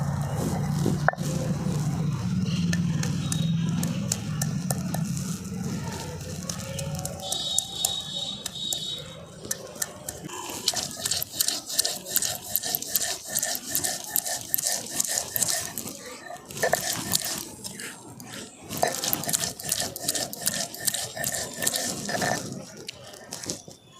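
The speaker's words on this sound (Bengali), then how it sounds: "প্রথমে আদা রসুন কাঁচা লঙ্কাটা বেটে নিই।" Ginger, garlic and green chili are ground into a paste, giving dense, rhythmic crunching and rasping scrapes that continue loudly and closely throughout.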